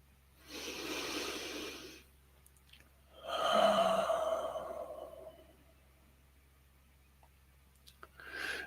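Deep breathing during a guided prayer meditation: a slow, close inhale followed after a pause by a long, audible exhale, then quiet with a faint start of another breath.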